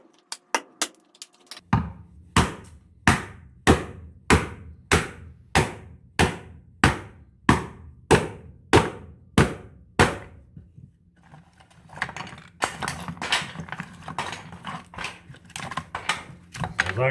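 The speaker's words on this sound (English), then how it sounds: "We can knock it out with a hammer" Hammer knocking out cut pine wood pieces on a rustic bench build, a steady run of sharp, evenly spaced blows close by, followed by a faster, scattered stretch of lighter tapping and clattering.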